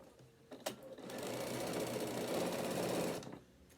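A sewing machine stitches a bag seam. A few clicks come first, then the motor hums in one continuous run of rapid stitching before it stops, close and clear with no talking.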